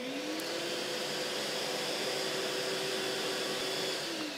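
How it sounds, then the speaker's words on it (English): A Festool CTSC dust extractor runs alongside a paired power tool, making a steady, loud, even whir with a constant motor hum that holds throughout. "Just press this once, then run the tool, and you hear the machine."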